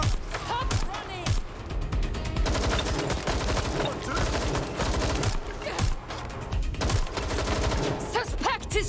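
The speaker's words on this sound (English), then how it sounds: "Suspect is shooting." Dense gunfire in the game Watch Dogs: Legion, loud overlapping shots and bursts crackling steadily throughout, with voices in the clip.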